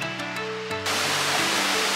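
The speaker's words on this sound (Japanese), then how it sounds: "川の流れがすごく穏やかですね" Oirase mountain stream in Aomori flowing in a gorge, a steady broadband rush of water that swells to a louder, close continuous wash after a brief quieter start, with no voices.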